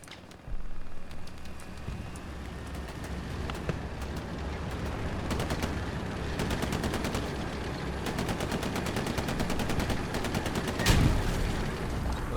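Tank battle in Hell Let Loose on Utah Beach, a Sherman on a hill against a Panzer IV: sustained gunfire and machine-gun bursts with a dense, loud rumble throughout and a heavy cannon-like blast near the end.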